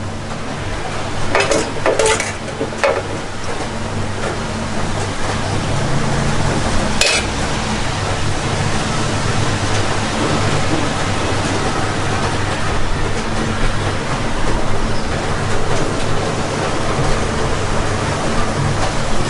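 Bohri-style vegetable samosas frying in hot oil give a steady, loud, continuous sizzle and bubbling hiss, with a few sharp clinks of a utensil early on.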